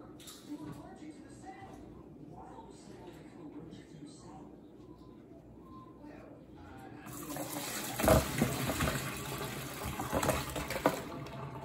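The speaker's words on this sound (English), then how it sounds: "So I'm gonna turn it off and drain out the water." Hot water from a pot of boiled shrimp pouring into a strainer in a kitchen sink, a sudden rushing splash that starts after quiet moments and continues steadily near the microphone, with someone talking earlier.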